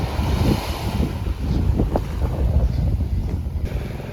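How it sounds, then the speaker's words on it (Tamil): A boat moving out on the open sea off Rameswaram, with steady wind buffeting the microphone, waves and engine rumble filling the whole stretch loudly and continuously, no voices. "இதுதாங்க நாங்கள் போகிற போட்டு."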